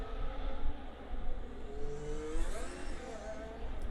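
A race car engine revving hard through corners on a fast lap at Bahrain in a racing game, with a steady mid-pitched whine that rises and shifts as gears change, and faint commentary underneath.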